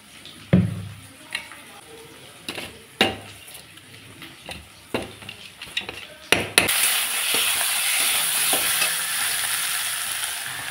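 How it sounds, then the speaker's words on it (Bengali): A spoon clinks and scrapes against a pot while stirring ground cumin, coriander, Kashmiri chilli and turmeric; water then hits the hot masala, bursting into a loud sustained sizzle. "এখন আমি একটু জল দিয়ে গুলিয়ে নেব"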